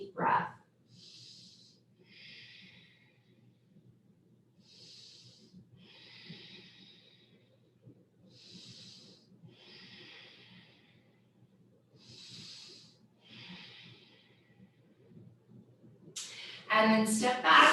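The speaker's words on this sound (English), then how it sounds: "Take a full deep breath." Slow, deep yoga breathing, long hissy inhales and exhales repeating in a steady rhythm, close and soft, ending with a louder rustle.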